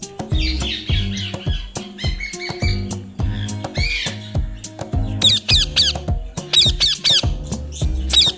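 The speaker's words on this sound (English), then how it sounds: "And the sound of the parrot is..." A parrot squawks repeatedly at close range, harsh screeching calls interspersed with shrill whistles, with short pauses between bursts.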